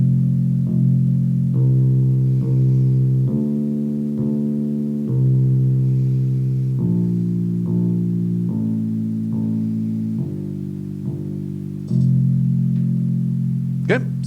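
Twinkle Twinkle Little Star is played on a stringed instrument as a sequence of clear, sustained single notes in a steady, even rhythm. The melody is moderately loud, close and unaccompanied, with no voices.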